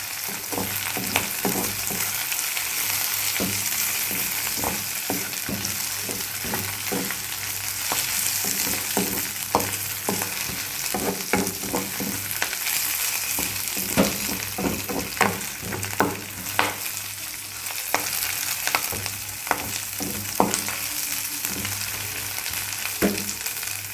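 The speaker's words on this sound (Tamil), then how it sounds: "இது வந்து ரொம்பலாம் வதங்கணும்னு கிடையாது, ஜஸ்ட்டு ஒரு வதக்கு, ஒரு 2 மினிட்ஸ்" Ingredients for Tirunelveli koottanchoru sautéing in a pan, with a steady close sizzle broken by frequent scraping and stirring clicks throughout.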